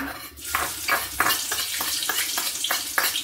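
Chopped garlic spits and sizzles in hot oil as a tempering for boiled gourd leaves, while a spoon scrapes the pan in a steady rhythm of regular strokes against a constant frying hiss, up close and without speech.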